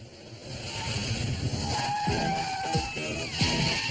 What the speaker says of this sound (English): everyone swerves successfully